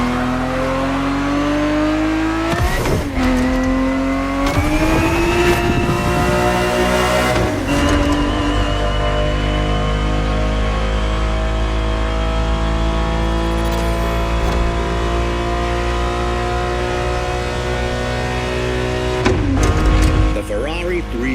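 A Ferrari 365 GTB4, a 1970s V12 grand tourer, driven in The Crew Motorfest racing game on PS5, its engine droning steadily with rising revs and gear-change dips, a voice talking over it throughout.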